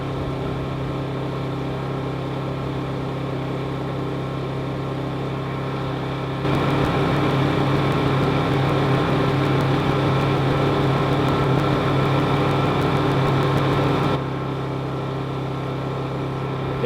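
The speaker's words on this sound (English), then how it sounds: "Honda generator's been turned up to its operating idle there" A Honda EU22 generator drones steadily at its operating idle, a constant close engine hum that steps up louder and rougher in the middle as load comes on, then settles back, with no voices.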